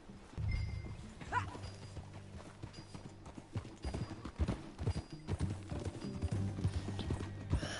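Steady clip-clop of horse hooves in a video game, plodding along at a walking rhythm, close by, with a brief whinny near the start and no talking.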